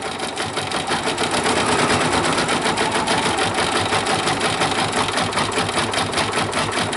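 An embroidery machine with a fast frame stitching a beanie, a steady rapid mechanical chatter that runs on evenly and close the whole time, with no pauses or talk.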